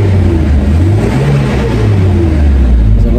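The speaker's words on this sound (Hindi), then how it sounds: "तो ये आवाज़ है बड़ी गाड़ी की 2700 सीसी की" A big 2700cc car engine revs loud and close, a steady throaty drone with rising and falling pitch swells, heard alone without talk.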